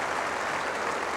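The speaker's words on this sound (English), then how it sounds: "Applause coming in the grandstand." Crowd applause rises from the grandstand at a 1986–87 Ashes Test match in Australia, a steady dense clapping that fills the whole short stretch without pause.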